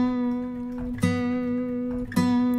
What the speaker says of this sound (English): kind of add these little pitch bends to the sounds.